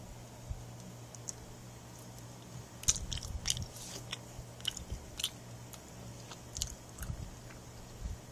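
Popin Cookin candy sushi eaten close up, with soft irregular bites and crunchy chewing sounds coming in small clusters over quiet room tone.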